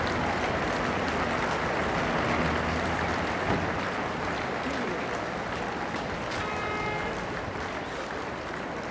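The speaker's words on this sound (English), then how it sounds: "the applause ringing out as the monarch" Racegoers at Ascot racecourse applaud as the Queen enters the new parade ring on the 2006 opening day of the new stands, a steady wash of crowd clapping sustained throughout with a commentator's voice faintly over it.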